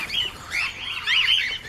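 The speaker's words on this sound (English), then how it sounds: "Birds are going crazy." Parrots at a parrot rescue calling and squawking together, a busy run of shrill chirps and squawks close by, loud and continuous with no talk over them.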